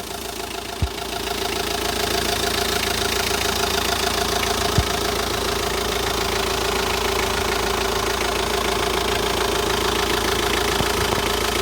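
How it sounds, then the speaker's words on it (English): A Starex TCI diesel van engine idles continuously at close range, with a faint rhythmic knock and a couple of brief clicks near the start. "The engine sounds fine."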